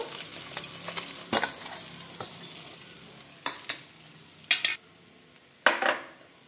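Bata fish frying in hot oil in a pan, a low steady sizzle broken by several sharp scraping and clinking stirs of a utensil against the pan, close and clear with no talking.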